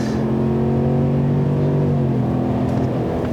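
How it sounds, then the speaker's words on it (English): A 2019 GMC Sierra AT4 pickup's V8 with performance exhaust rumbles loudly in a sustained rev, a deep steady drone with the pitch sagging slightly then holding, close and continuous with no talk. "the performance exhaust just sounds really good"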